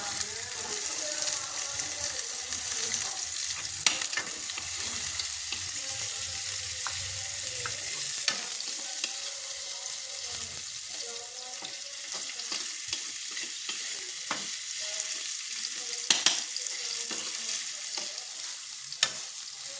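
Chopped onion sizzles and fries with ginger paste in a pan, a steady close hiss with occasional stirring scrapes, the oil noise fairly loud and continuous throughout.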